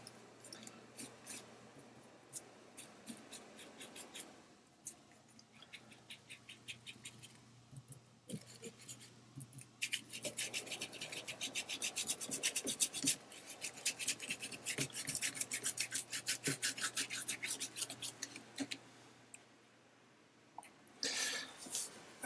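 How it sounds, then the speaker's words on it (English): Tissue lightly rubbed over a paper art journal page, giving soft, close scratchy rasps that come in bursts and grow busier and louder toward the middle before easing off, no talking. "And again, just lightly rub over"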